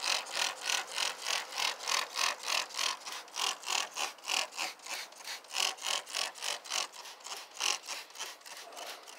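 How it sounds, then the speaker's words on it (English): Spray Nine heavy duty cleaner degreaser sprayed onto a grimy Pathfinder tire in quick repeated bursts, a steady rhythmic hiss of pumped trigger sprays, close and fairly loud with no talking. "I'm just spraying it so you guys can see it coming up out of the cracks."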